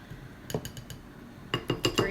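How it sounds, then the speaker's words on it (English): A metal teaspoon scoops flour into a bowl while clay is being made, tapping lightly against the bowl. The small clinks come in two quick clusters, close by. "We're just going to measure out 8 teaspoons of flour."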